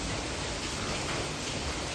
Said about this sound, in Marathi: नुसताच पाऊस पडतो